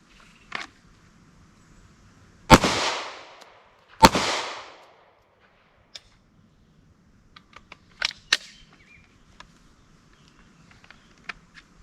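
Pistol shots at an outdoor range during a dot torture drill, two sharp loud reports about a second and a half apart, followed by quieter clicks and handling noises and faint distant pops.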